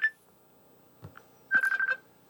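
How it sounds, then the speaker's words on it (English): A phone rings with short electronic tone bursts, one brief tone at the start and then a cluster of rapid repeated beeps, fairly faint against quiet room background. "Really sorry about the ringing noise"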